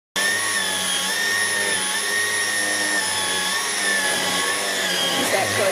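A Dyson V11 Animal cordless vacuum cleaner runs steadily up close with a high whining motor tone that holds constant throughout, with no talking over it.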